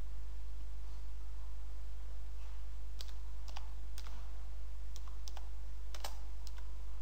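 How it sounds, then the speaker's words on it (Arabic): Short bursts of clicky key presses on a computer keyboard typing a project name, scattered taps in quick clusters over a steady low electrical hum. "هون نكتب اسم المشروع ويندوز اكس بي"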